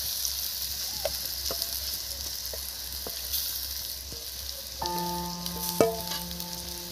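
Ground chana dal paste sizzles and fries in a hot pan for Bengali dhokar dalna, a steady hiss with scattered crackles and light scraping taps, growing busier near the end.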